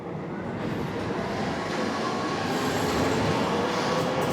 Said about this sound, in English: This is the first metro line in Budapest.